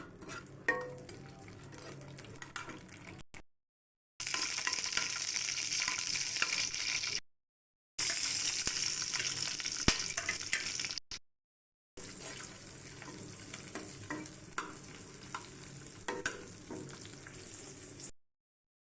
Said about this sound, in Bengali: কাঁচামরিচ ভাজা হলে একে একে রসুন পেঁয়াজ তুলে নেবো